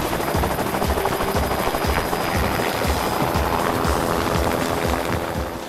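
A helicopter flies with a dense, rapid rotor chop and engine roar, loud and continuous throughout before easing slightly at the end.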